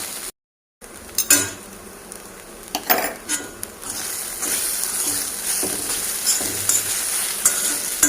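Flattened rice poha upma stirred in a pan, with a spoon scraping and clinking against the metal in irregular bursts over a light sizzle, close by, after a brief cut to silence near the start, with no talking.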